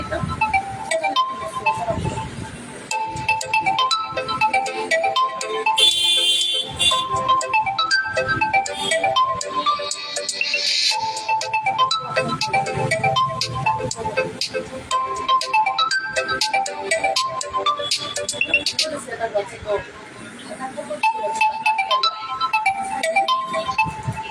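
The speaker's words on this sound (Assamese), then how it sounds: "ফোন এটা আহিছিলে" A mobile phone ringtone plays on an incoming call, a repeating melodic tune running steadily and fairly loud for over twenty seconds with faint background noise and brief talk.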